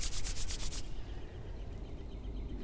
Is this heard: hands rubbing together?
yes